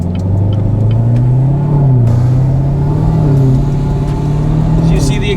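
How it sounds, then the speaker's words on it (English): A 2017 or later Chevrolet Camaro ZL1 with Stage 4 modifications rumbles loudly and rises in pitch as it accelerates, with a deep, aggressive exhaust note close by. "As you can see, the exhaust note gets a little louder."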